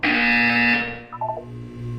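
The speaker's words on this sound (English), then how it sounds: "When you hear the buzzer, look up at the ceiling." A buzzer from the Portal 2 video game blares loudly and steadily for about a second, then gives way to a few short chiming tones and a low hum.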